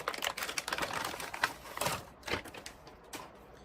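Metal part of a DeAgostini 1/8 scale Ford GT40 model being popped out of its frame: a quick series of small, close clicks and snaps with light rattling handling noises.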